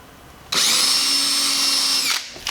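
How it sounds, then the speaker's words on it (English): A power drill whirs at a steady high pitch for about a second and a half, boring through car carpet, starting abruptly and stopping, loud and close with no voices. "it's for drilling holes through nylon webbing"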